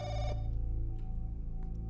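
A public telephone rings in a Chinese police horror game, a loud sustained electronic bell tone that cuts off after a moment, followed by faint clicks.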